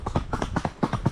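Horse hooves clip-clop in a steady, close rhythm of repeated strikes, loud and distinct with no talk over them.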